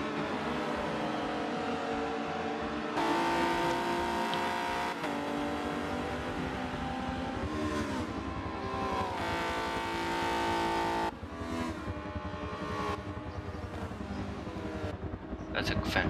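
A BMW race car engine at Suzuka in a vintage DTM racing game, its steady, tonal engine note rising and falling through gear changes and revs, with a commentator talking over it.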